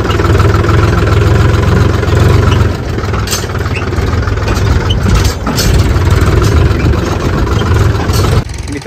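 A tractor engine runs loud and close in a paddy field while building earthen bunds. The steady idling drone dips slightly in the middle and cuts lower near the end.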